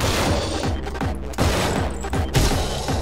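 Repeated gunshots in the first-person game Anger Foot, several sharp loud blasts spaced roughly every half second over a dense, noisy game soundtrack.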